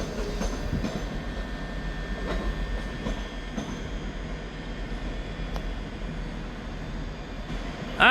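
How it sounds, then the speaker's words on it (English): A Scotrail train departs Edinburgh Waverley station, with a steady low rumble of the engine and wheels under intermittent clicks and squeals from the rails, loud and close the whole way through. "12:30 Scotrail service starting here at Edinburgh Waverley to Glasgow Queen Street"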